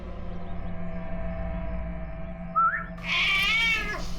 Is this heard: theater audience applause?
no